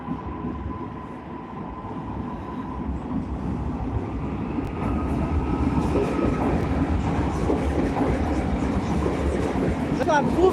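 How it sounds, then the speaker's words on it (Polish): A Koleje Dolnośląskie passenger train rumbles steadily past in Wrocław with a continuous low roar and faint rail clatter, growing slightly louder toward the end. "No to jedzie koleje dolnośląskie."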